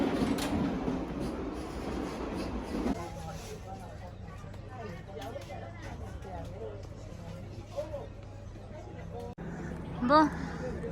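Camrail passenger train in Cameroon rolling along the tracks, a steady low rumble and rattle of the carriages throughout, with people talking nearby over the running noise.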